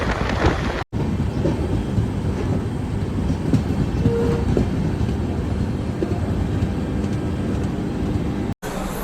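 The Humsafar Express, on its inaugural run, rumbles loudly and continuously over the Nasipur rail bridge, with a steady roar and faint rhythmic clatter from close by, cut by brief dropouts.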